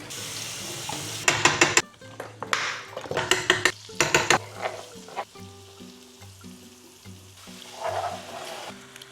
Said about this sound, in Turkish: Fokur fokur kaynıyor duyuyor musunuz?